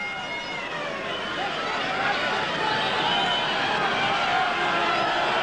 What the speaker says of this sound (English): The crowd are setting up a roar.